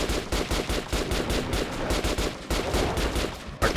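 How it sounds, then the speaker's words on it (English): RPK machine gun firing in Metro Last Light Redux, a long sustained burst of rapid, loud shots in close succession with no talking. "Artune's a badass, shooting an RPK one-handed."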